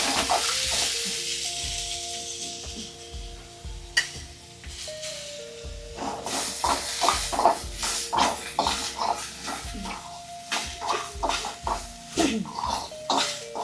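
Ingredients sizzle in oil in a home kitchen pan while chicken curry is made, with a spoon scraping and stirring in an uneven rhythm. The frying hiss runs constantly and close throughout.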